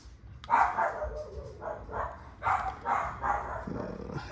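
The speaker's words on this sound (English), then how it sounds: "Why are you barking?" A dog barks repeatedly indoors, a series of about six moderately loud barks in a loose rhythm, with a softer low growl near the end.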